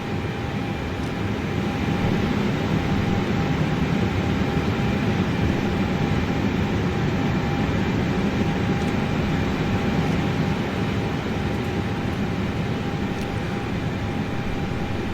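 An iniBuilds Airbus A320 taxiing in Microsoft Flight Simulator, heading toward runway 23 at Toronto, gives a steady, continuous low engine rumble with a faint high whine, unbroken and even for the whole stretch.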